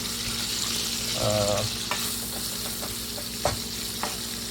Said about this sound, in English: I'm gonna mix these up so it will fry better